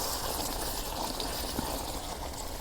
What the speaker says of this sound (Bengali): জলে পানি দিয়ে দিই।